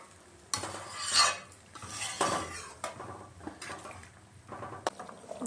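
Papaya curry being stirred and sautéed in a metal pan, with close, irregular scraping clatters and a faint sizzle underneath, coming in uneven bursts with short pauses.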